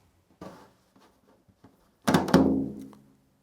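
A tom drum, damped with a folded-over tea towel laid partly across the head, gives a few soft taps and then one louder, dead-sounding thud with a short decay, heard up close with no talk.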